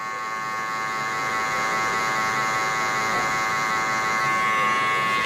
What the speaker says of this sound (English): I'm setting it in with my clippers